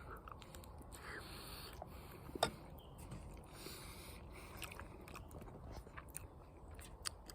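Quiet, close chewing of a dinner with Parmesan and creamy yellow cheese inside a van, with soft wet mouth sounds and a few small clicks and sniffs at a low level.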